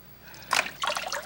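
Water trickles and splashes briefly as something is rinsed off, with two short close bursts of running liquid in a quiet room.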